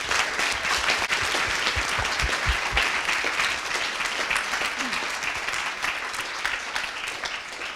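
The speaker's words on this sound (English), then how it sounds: "they all deserve, all of them, a huge round of applause" Audience applause at a coding bootcamp demo day: a crowd clapping continuously and loudly with occasional cheers mixed in, sustained throughout.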